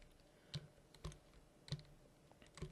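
Sparse keystrokes on a computer keyboard while typing into a talking word processor, a handful of distinct clicks spaced irregularly, close but quiet with no speech.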